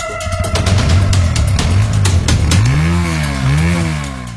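A motorcycle engine revs loudly up close, its pitch rising and falling in repeated swells with clattery bursts over a steady low idle.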